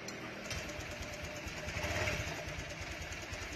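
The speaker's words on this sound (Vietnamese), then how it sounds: "chúng ta sẽ nổ máy" Automatic scooter engine running after being started, with a voltage and current tester connected: a steady, close idle with an even, rapid pulsing chug throughout and no talking.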